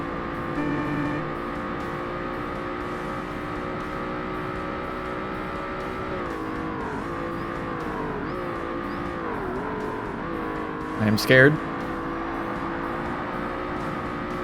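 Engine of a rear-engined Porsche 993 in the 2005 Xbox racing game Forza Motorsport, a steady droning tone that rises and dips through gear changes and revs, with a brief tyre-squeal burst near the end and a voice speaking briefly.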